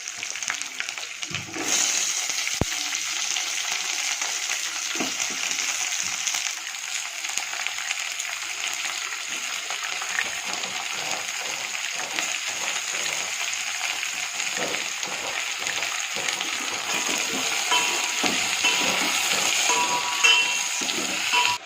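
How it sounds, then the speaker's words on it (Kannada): Chopped onions fry steadily in a pan of oil for vegetable uppittu, giving a continuous close hiss of sizzling broken by soft scrapes as they are stirred, with no talking. "ಈರುಳ್ಳಿ ಹಾಕ್ತಾ ಇದ್ದೀನಿ"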